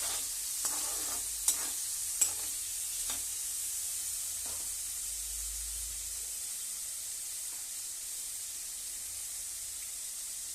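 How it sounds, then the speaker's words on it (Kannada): Paneer frying in a pan: a constant bright sizzling hiss, with a few sharp spoon taps and scrapes near the start, then steady frying alone. "ಇನ್ನೂರು ಗ್ರಾಮಷ್ಟು ಪನ್ನೀರ್ ರೀ ತುಂಬ ಫ್ರೈ ಮಾಡಬೇಡ್ರಿ ಎಷ್ಟು ಅಷ್ಟೇ ಫ್ರೈ ಮಾಡ್ಕೊಳ್ರಿ"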